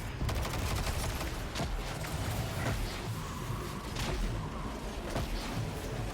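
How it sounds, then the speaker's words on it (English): Spaceships firing guns at the player in the shooter game Destiny 2; repeated sharp blasts and crackling bursts of fire over a rumbling low background, scattered irregularly throughout and moderately loud. "How the fuck do I stop those ships from firing?"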